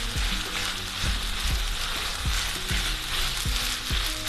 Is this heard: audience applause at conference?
no